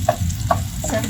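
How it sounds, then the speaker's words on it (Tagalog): Sardines sizzle and fry in a pan, a steady close crackle with a few sharp spatters and stirring scrapes over a brief moment. "Nagluluto ng sardinas, hindi ko siya dinudurog-durog maigi."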